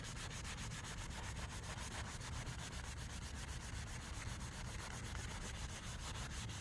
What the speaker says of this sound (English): This might take a little bit of scrubbing